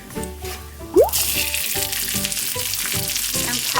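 Spicy chili crisp oil and onion frying in a pan over high heat: a sharp burst of sizzling, then a loud, steady hiss with light stirring clatter underneath.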